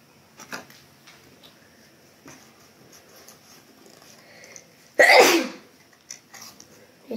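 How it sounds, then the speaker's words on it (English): A single sharp, loud sneeze bursts out about two-thirds of the way through, standing out against an otherwise quiet room with faint rustling and small clicks. "Oh, coughing made me sneeze because it's perfumey stuff."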